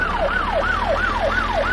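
A police car siren wails in rapid rising-and-falling sweeps during a chase in the driving game My Summer Car, loud, close and continuous with a steady engine hum beneath, no speech.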